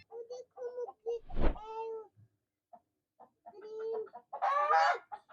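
Several short clucks from hens, separated by brief pauses, close by, with a louder squawk near the end.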